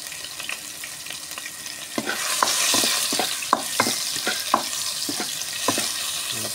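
Garlic fries and browns in a pan with a bright, continuous sizzle, close and loud, punctuated by repeated scraping and clinking of a utensil stirring against the pan.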